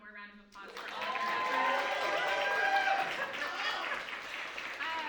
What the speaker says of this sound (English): Can we just give them one more round of applause for all their